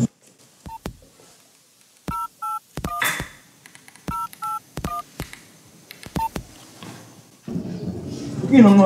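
A telephone being dialed, with a rapid sequence of crisp touch-tone beeps and clicks in short bursts, ending in a louder rustle or handling noise.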